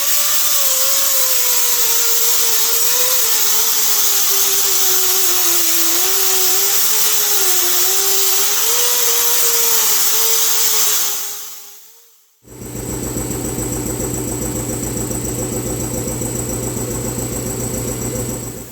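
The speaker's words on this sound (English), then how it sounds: "So I'm going to go ahead and now get this grinded up and get the other side grinded up." An angle grinder works metal on a car's wheel tub, a long steady whine with a wavering pitch that drops off, then a brief lower-pitched steady run of grinding; no talking.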